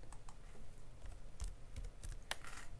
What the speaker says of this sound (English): So I could type that in.